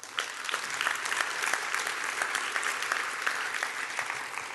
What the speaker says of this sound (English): can I have a round of applause for our partners?